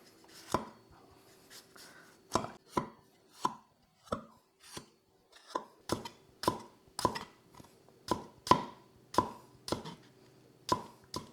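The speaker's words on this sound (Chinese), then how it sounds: "黄瓜的话，我建议如果你要切 这样长，你就改这样的一个段出来。 OK， 先切片。" A knife slices through a cucumber on a cutting board, with about twenty crisp, close chops falling in a brisk, slightly uneven rhythm and no talking.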